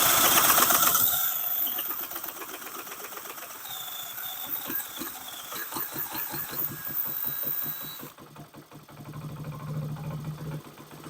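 A newly acquired Honda SL70 motorcycle starts for the first time and runs with a rapid, uneven small-engine putter that rises and dips with the throttle, close and fairly loud.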